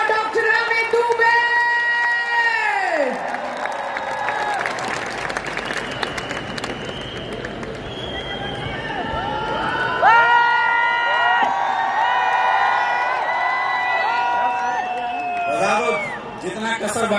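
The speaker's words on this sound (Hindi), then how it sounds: "तो एक बार फिर से दोनों हाथ ऊपर, जोरदार तालियां for the new royal ambassador." A big event crowd claps and cheers for a newly named royal ambassador, loud sustained applause with whoops and shouts. Music plays throughout and a host talks over it.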